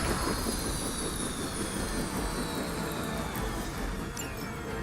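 Helicopter in the Marvel Midnight Suns Storm DLC, a steady dense rotor-and-engine roar with a thin high whine, holding at even loudness for about five seconds.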